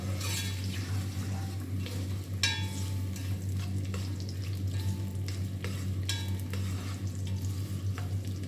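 Sliced onions fry in oil in a pan for a potato-and-pea curry, a steady close sizzle with occasional stirring scrapes and a constant low hum underneath.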